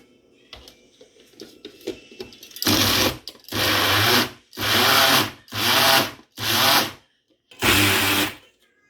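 An electric grinder blends garlic and herbs for a chicken burger, running in about six loud whirring bursts separated by short pauses, after quieter handling and clicks at the start.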